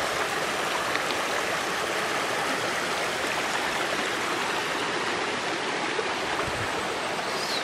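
A cold mountain river stream flows in a steady, close rush of water over rocks, with continuous babbling and small splashes and no voices.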